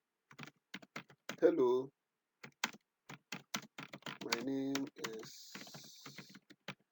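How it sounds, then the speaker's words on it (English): Someone types on a computer keyboard, producing rapid, irregular clicking keystrokes close to the microphone, with someone speaking briefly over the typing. "So let me say I'm typing something here."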